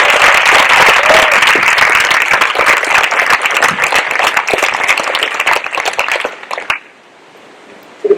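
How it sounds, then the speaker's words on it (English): Loud, dense applause from a large crowd at a senior awards ceremony fills the space for several seconds, then stops abruptly, leaving a quiet room. "I want to give a round of applause for all those honors."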